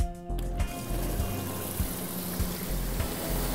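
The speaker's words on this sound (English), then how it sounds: "we're then going to run the power to pump the water into the jerry can" An electric pump runs steadily, pushing water from a showerhead efficiency display's reservoir through a hose into a jerry can, with a continuous close hum and rushing liquid and a few faint rhythmic pulses.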